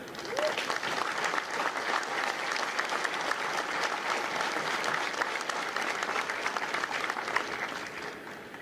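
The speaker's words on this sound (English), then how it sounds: "join me in a round of applause for the officers, the drill instructors, and the families of Company M." At a Marine recruit graduation for Company M, a big crowd applauds officers, drill instructors and families, steady sustained clapping heard from some distance, filling the whole stretch.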